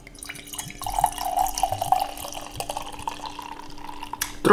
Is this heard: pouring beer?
yes